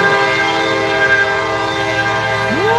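Train passing close by with a loud, sustained multi-tone horn blaring, a steady rumble underneath and a rising whistle-like tone at the very end.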